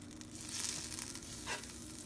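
Butter melting in a pan, giving off a faint, steady sizzling hiss that holds evenly throughout with a slight swell near the end.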